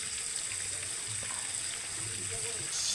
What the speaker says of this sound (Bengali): যেগুলো রান্না করব সেগুলো ভাজার জন্য কড়াইতে দিয়ে দিয়েছি